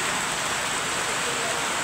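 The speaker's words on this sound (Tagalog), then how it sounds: "malakas po ang ulan ngayon" Heavy rain pours steadily in Sariaya, Quezon, a dense, even hiss that fills the whole moment without a break, close and fairly loud with no other sounds standing out.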